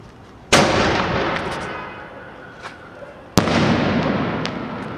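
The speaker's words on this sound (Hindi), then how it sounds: "ये है स्काई शॉट।" Diwali sky shot green firecrackers launch and burst outdoors in two sharp, loud bangs a few seconds apart. Each bang is followed by a crackling decay and a few fainter pops.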